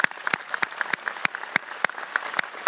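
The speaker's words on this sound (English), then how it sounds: "Let's give a final round of applause to Lake Bell." Applause closing a film Q&A with Lake Bell at Sundance London, heard as sparse, distinct individual claps in an uneven rhythm rather than a dense wash, fairly close and without speech.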